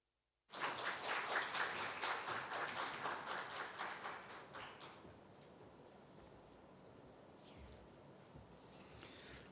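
An audience applauds after a talk at a panel discussion on women and mental health, a dense burst of clapping that swells at once, holds for about four seconds, then thins and fades into quiet room tone.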